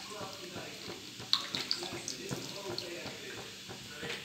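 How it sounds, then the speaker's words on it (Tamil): Soft splashing and trickling as tamarind water is poured into simmering sambar, faint and close with small irregular splashes and no talking. "இப்போ வந்து சாம்பாருக்கு புளி தண்ணி கரைச்சி வச்சுருக்கிறது ஒன்று ஊற்றிடலாம்."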